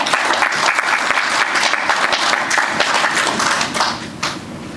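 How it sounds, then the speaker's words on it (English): An audience at a homage to Fidel Castro breaks into sustained, dense applause, many hands clapping loudly and close, tapering slightly at the end. "let's give Brother Roll Harvey another round of applause for his love for Cuba"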